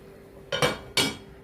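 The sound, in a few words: stirring beef tongue with black pepper in a pan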